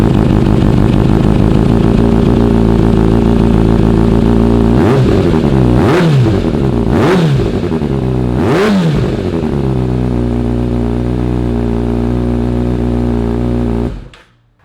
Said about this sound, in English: let's go ahead and fire it up for the first time with the air filter on